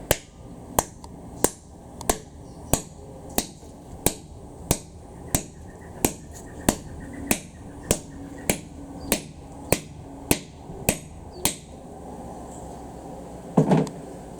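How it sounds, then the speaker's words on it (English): An Ontario khukri knife chops a goat horn in an edge test, with about eighteen sharp, evenly spaced strikes that land as crisp, close thuds, followed by a brief rustle after they stop. "I'll do a horn chop test. This is a goat horn. I'll just give it 10 or 20 strikes to test the edge."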